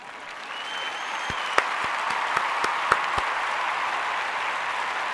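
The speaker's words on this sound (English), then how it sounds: "Let's give you a little round of applause for being the best." A round of applause rolls on steadily at moderate loudness, a dense even patter punctuated by a few sharper, louder claps standing out near the middle.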